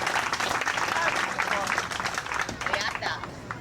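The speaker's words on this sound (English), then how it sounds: "Give her a round of applause." Audience clapping for a dancer at Disney World, a sustained round of applause with crowd voices mixed in and steady loudness throughout.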